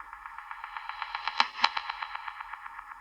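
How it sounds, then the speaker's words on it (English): A reversed reverb and delay tail from an Ableton Live production swells upward, rhythmic echoing pulses building in intensity with two sharper accents near the middle, heard alone without talk. "so turn that into audio with its reverb tail and with its delay, and reverse it to have this kind of growing"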